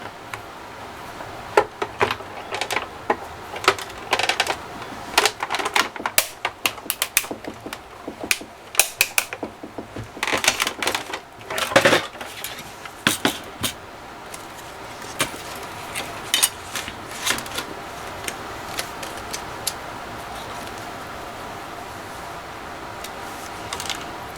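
Paper runs through a manual die cutting machine in a dense, steady stream of rattling clicks and ratcheting ticks for over twenty seconds, close by and with no talk.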